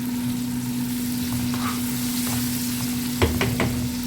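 Bitter gourd and egg cooking in a pan, a steady close frying sizzle with a constant hum, and a few sharp clinks near the end as the lid or utensil moves.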